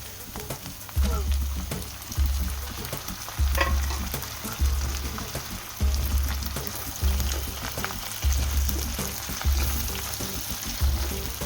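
Chopped tomato frying in a pan for an egg omelette curry, a continuous hiss of sizzling oil with rhythmic low scraping strokes every second or so as it is stirred, close and moderately loud, no voices.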